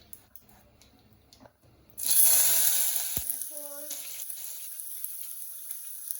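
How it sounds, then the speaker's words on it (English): Onion paste sizzling loudly as it hits a hot pan of oil while cooking an Indian spinach chicken (palak murgh) dish, with a sudden burst of frying noise after a quiet stretch, then steady crackling and a brief stir. "Now it's time to add the onion paste."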